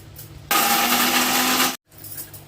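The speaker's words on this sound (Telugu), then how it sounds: "ఇవైతే మిక్సీ పట్టుకుందాము." A mixer grinder whirs loudly for over a second, grinding coconut, ginger, garlic and spices, then stops abruptly, with a quiet room before and after.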